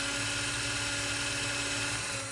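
Lidl cordless drill boring holes, a loud, steady high-pitched motor whine running continuously for a couple of seconds, close up with no talking.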